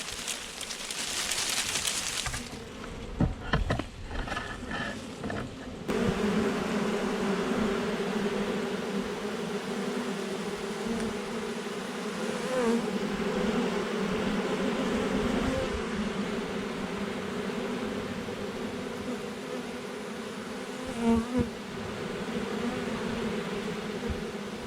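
A swarm of honey bees hangs from a branch during a swarm capture, their buzzing a steady, dense drone that fills the whole stretch, with a few louder bumps and rustles near the start.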